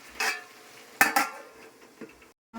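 A lid goes onto a pot of home-cooked vegetable curry: sharp metallic clanks, one near the start and a double knock at one second, then a light tap, close and alone.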